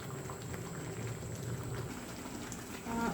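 Varan fal dumplings bubble in dal under a plate lid, a steady close simmering burble with soft popping throughout.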